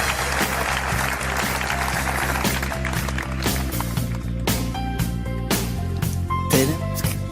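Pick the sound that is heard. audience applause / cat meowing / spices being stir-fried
audience applause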